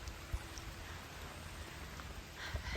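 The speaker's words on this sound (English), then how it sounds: "we've got it's raining a little bit," Light rain falls on a hiking trail near a meadow crossing, a soft, steady patter of drops on foliage and ground, quiet and continuous with a few slightly nearer drips.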